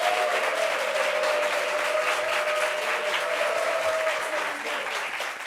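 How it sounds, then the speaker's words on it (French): An audience at a French-speaking gathering in Côte d'Ivoire claps steadily for an arriving guest, a dense sustained applause that holds level before easing off slightly at the end. "Applaudissements pour lui, s'il vous plaît."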